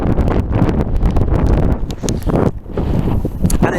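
Strong wind buffets a Peak District hilltop, a loud, continuous roar of gusts battering the microphone with rustling and thumping, no talk.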